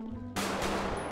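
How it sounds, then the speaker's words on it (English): Gunfire in the video game GTA V during police roleplay: after a short quiet pause, a loud, dense burst of shots starts abruptly and carries on to the end. "Shots fired."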